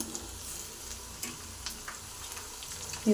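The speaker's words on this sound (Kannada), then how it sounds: "ನೋಡಿ ಈ ಥರ ಫ್ರೈ ಆಗ್ತಾಯಿದೆ ಅಲ್ವಾ" Eggplant frying in a pan for badanekai palya, a quiet, crackling sizzle with soft scraping stirs and small ticks, fairly faint and with no talking.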